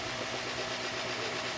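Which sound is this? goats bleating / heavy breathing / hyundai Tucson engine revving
hyundai Tucson engine revving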